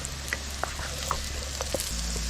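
Home fries crisping in an uncovered pan give a quiet, steady sizzle with scattered small pops and crackles, close and alone.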